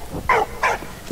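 A dog in Valiant Hearts, a World War I game, gives two clear close yips or barks followed by a fainter short whimper, alone without talk.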